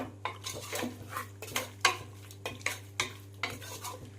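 A spoon stirs mutton coated in ginger-garlic paste and turmeric in a dry pot with no oil. The scrapes and clinks come in a steady rhythm of roughly two a second, close by, over a low constant hum.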